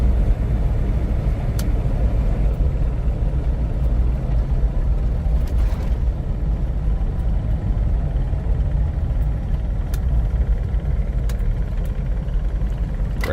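An open-top 1998 Hummer H1 on the move, its engine a loud, steady low rumble blended with strong wind and road roar, heard close up with no speech and only a few faint rattles.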